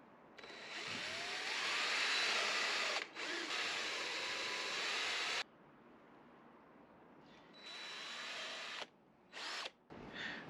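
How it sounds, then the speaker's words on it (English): Power drill boring four holes for a retrofit electric window install on a VW T5 camper conversion, running in two long loud bursts with brief stops, then shorter spurts near the end; no talking. "So next I'm going to drill this."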